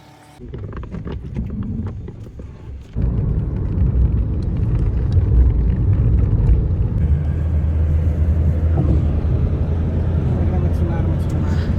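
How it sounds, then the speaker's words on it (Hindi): A car drives on a road in Himachal toward Kullu, a steady close engine and road rumble that swells louder after a few seconds and continues under someone talking. "ये हमारी गाड़ी बढ़ती है, हम चले अपने मिशन पे कुल्लू।"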